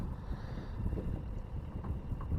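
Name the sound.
wind blowing while fishing from a boat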